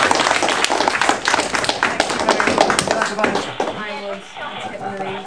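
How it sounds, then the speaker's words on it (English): A crowd at a school assembly breaks into dense, sustained applause that tapers off near the end as a voice begins speaking. "can we have a big round of applause for Miss Cole?"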